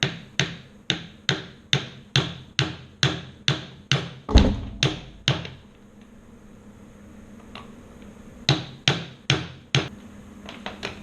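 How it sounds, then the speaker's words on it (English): Bearings tapped onto a Land Rover Freelander prop shaft with a socket and hammer: a rapid even series of sharp metallic knocks, a pause with faint handling noise, then another short burst of close taps. "bearings are now on, tapped them on with a socket, they're all home"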